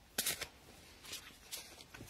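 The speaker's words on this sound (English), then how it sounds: "So right now I'm shuffling. This is a huge deck." A large 78-card deck is shuffled by hand, giving several quick riffling bursts, quiet and close, spread over about two seconds.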